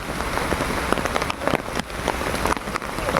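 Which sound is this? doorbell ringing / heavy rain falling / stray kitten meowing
heavy rain falling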